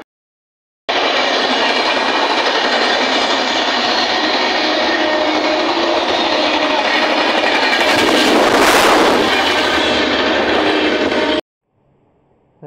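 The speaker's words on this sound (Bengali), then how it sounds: "ট্রেন আসছে।" A Bagnan-Howrah local train on an Indian suburban line arriving, a loud, continuous rumbling roar of wheels and carriages close by that swells near the end before cutting off abruptly.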